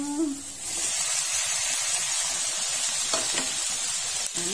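Beef cubes and tomato sizzle and fry in a pan, a steady hiss close by with a few faint stirring clicks and no talk.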